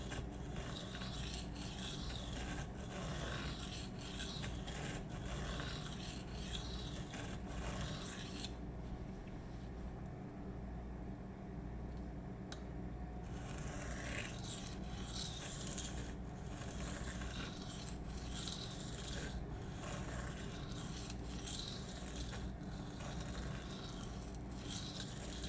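A Spyderco Sage 5 knife with M4 steel is sharpened freehand on a stone, giving rhythmic scraping strokes in steady repeated passes, close and fairly quiet, with a brief lull midway.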